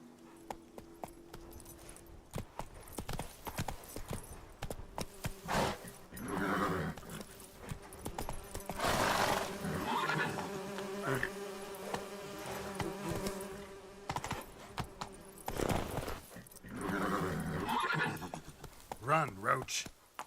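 Roach the horse galloping in The Witcher 3, hooves drumming in uneven bursts alongside snorts and whinnies, mixed with game ambience, buzzing insects and a voice speaking over it.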